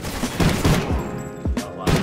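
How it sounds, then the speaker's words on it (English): A semi-automatic gun in Call of Duty: Ghosts fires several loud, sharp shots in an uneven rhythm, close and punchy, with a short pause mid-burst before a final shot. "This is semi-auto gun."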